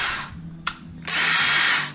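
A DeWalt DCD709 hammer drill running on its slower setting 1, a short burst of high whirring motor, a brief click, then a longer sustained spin-up, close and fairly loud.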